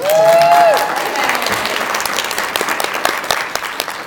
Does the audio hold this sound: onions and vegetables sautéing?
no